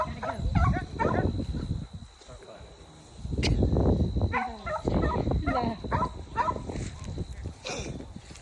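A dog barks repeatedly on a farm, sharp close barks in uneven bursts mixed with yips, with people talking between and over them.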